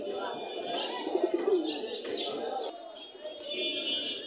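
At the Kasimpur pigeon market, pigeons coo and chirp close by in short repeated bursts, over the general bustle of the market.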